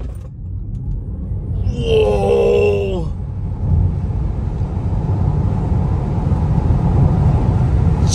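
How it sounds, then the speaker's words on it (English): A Tesla Model 3 Performance in track mode accelerating hard from 0 to 100 on a straightaway, with a loud steady low rumble of road and wind noise building inside the cabin, interrupted early by a drawn-out exclamation. "Let's see how fast this freaking car is."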